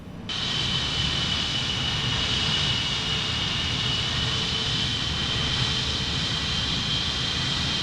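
Concorde jet engines spooling up in a flight simulator, a loud steady roar with a high whine that starts abruptly and holds constant for several seconds with no talking.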